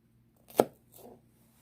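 A Rough Ryder RR2196 Sous Chef knife slices through vegetables with one sharp, crisp chop followed by a softer, brief scrape, heard close against near silence.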